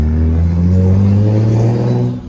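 A straight-piped big-turbo BMW 335is roars with a loud, steady, deep exhaust drone close by, the pitch sliding slightly as the revs shift, then easing off at the end.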